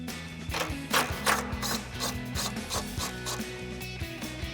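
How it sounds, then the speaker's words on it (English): A 10mm socket wrench ratchets a nut off an air box mount on a Sierra 2500 truck, giving close, repeated rhythmic clicking and rasping strokes with no talking. "we're going to grab our 10mm socket and remove the nut holding our air box to the mounting point"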